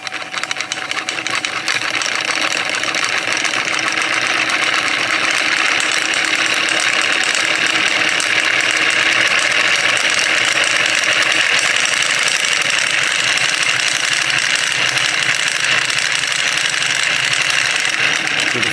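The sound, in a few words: magnet flywheel spinning up to speed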